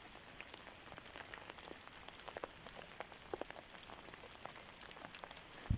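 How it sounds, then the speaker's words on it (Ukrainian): Steady rain patters on a surface, with scattered louder drops ticking through the fine hiss; fairly soft and continuous, no voices. "дощик вже реально усилюється"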